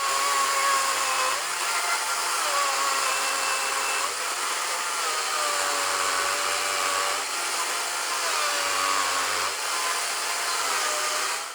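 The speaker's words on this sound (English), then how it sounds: "I am truly impressed that this chainsaw handled even this tree trunk so effortlessly" A DeWalt DCMCS575 54V/60V cordless chainsaw with a 330 mm bar cuts through a tree trunk, giving a loud, continuous high electric whine that dips slightly under load throughout.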